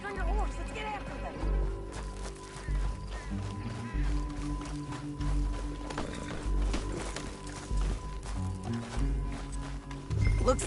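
A horse galloping in Red Dead Redemption 2, its hoofbeats running as a steady drumming pulse under game music and a constant low rumble, with a voice talking over the ride.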